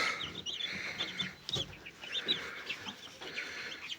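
Newly hatched chicks in an incubator peep in short, high, repeated chirps, close and fairly faint, with small soft knocks between the calls.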